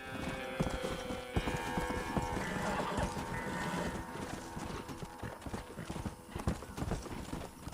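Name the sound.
horse galloping in a video game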